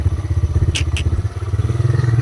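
A motorcycle rides over a rough road, its engine throbbing steadily and close, with a couple of brief clattering knocks partway through.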